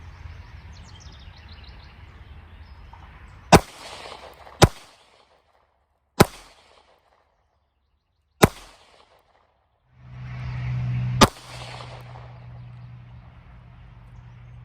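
Several live shots from a pistol fitted with a cheap XPG-R5 weapon flashlight, five sharp loud cracks spaced a second or two apart with brief echoing decay, over quiet outdoor background.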